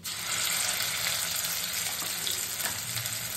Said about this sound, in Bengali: মৌরি ফোড়ন দিয়ে দিয়েছি আর আদা বাটা দিচ্ছি